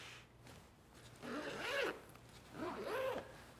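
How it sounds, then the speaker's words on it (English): Two quick zipper pulls open a medium Peak Design camera cube, each a short rising rasp about a second apart, close and fairly quiet against a soft room background with no talking. "Buttery zippers."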